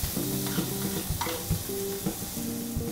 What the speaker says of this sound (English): the pan should be really hot when you put the mushrooms in so that the sizzle's there